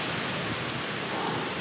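Steady rain falls on an abandoned university building at night, a dense, even hiss of drops that holds at the same level throughout with no other sounds.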